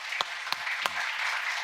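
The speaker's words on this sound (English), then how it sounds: "Let's give him a nice round of applause as well." An audience at a diplomacy forum in Seoul applauds, a steady patter of clapping throughout with a few louder individual claps near the start.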